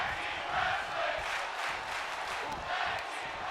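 A wrestling arena crowd in the WWE 2K23 video game roars steadily, a continuous wash of cheering and shouting that holds at an even loudness with no commentary heard over it.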